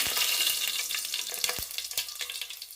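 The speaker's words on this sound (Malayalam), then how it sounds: "കടുക് പൊട്ടിയ ശേഷം നമുക്കിനി 3 വറ്റൽമുളക് കീറിയതിട്ട് കൊടുക്കാം." Torn dried red chillies hit hot oil with popped mustard seeds while tempering a Kerala boiled dried tapioca dish: a bright, loud, crackling sizzle that slowly settles, with occasional stirring clinks.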